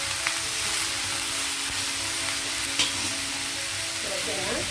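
Chopped vegetables and a large cut tomato fry loudly in a pan, a dense, steady sizzle with a few sharp stirring scrapes and bubbling pops, no one speaking.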